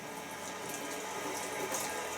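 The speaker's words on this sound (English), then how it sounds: "Then you're going to just run the cold water." Cold water runs steadily from a tap while rinsing a washing machine detergent drawer, a constant close hiss and splash with no talk.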